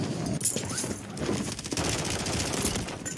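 A squad in a Call of Duty game lays down dense, continuous gunfire in a sustained loud fusillade of overlapping shots and clatter.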